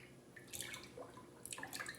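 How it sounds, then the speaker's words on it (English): Whey drips from cheesecloth while paneer is made, giving faint, scattered small wet drips and patters close by in a quiet room. "It's still dripping."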